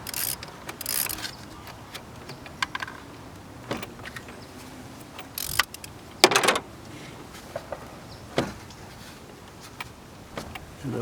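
Wrench loosening a 12mm car battery terminal nut: sparse metallic ratchet clicks and clanks with quiet pauses between, close by, no talk.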